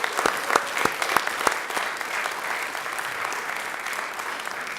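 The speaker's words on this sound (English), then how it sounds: "Round of applause for Chief" An audience at a town board of mayor and aldermen meeting claps in a round of applause for a chief, a few sharp individual claps at first, then steady, moderately quiet clapping spread across the room.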